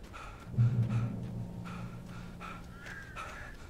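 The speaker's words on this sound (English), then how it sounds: "Birds." Birds call in the Alan Wake video game, with a series of short, crow-like caws repeating at moderate distance over a low rumble that swells early and then fades. No one speaks.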